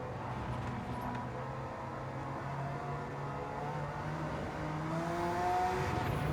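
Race car engines in the Gran Turismo 7 video game, a Porsche among them on the Nürburgring GP circuit, drone and rise in pitch as the cars accelerate, a steady moderate engine tone that swells near the end.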